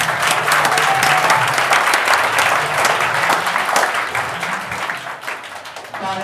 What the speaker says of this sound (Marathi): एकदा सर्वांसाठी एकदा जोरात टाळ्या झाल्या पाहिजेत